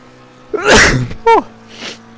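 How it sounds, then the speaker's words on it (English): A single loud, forceful human sneeze right beside the mic, a sharp explosive burst followed by a quick second gasp and a softer tail, with racing game audio humming underneath. "That was a sneeze and a half."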